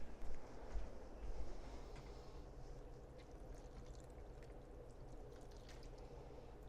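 Water pours steadily into a mixture, a soft, close, continuous trickle that starts a little louder and settles into an even stream, with no talking over it.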